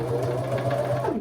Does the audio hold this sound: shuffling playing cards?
no